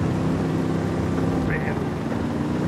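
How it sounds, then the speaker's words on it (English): A helicopter chases players in the video game Ghost Recon Wildlands, its rotor drone a steady rumble underneath lively chatter from the players. "there's also a chopper chasing us"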